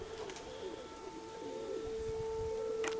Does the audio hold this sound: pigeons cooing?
yes